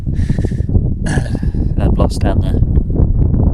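Heavy low rumbling wind buffeting the microphone throughout, outdoors while hunting chamois in New Zealand, with a person talking over it.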